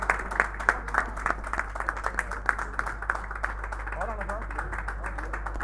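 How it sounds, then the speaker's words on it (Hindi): Scattered applause from a small audience welcoming guests at a snooker championship in Sahiwal, with a few hands clapping irregularly over a steady electrical hum and background chatter. "भरपूर तालियों मेहमान सूसी हमारे आज के आ चुके हैं"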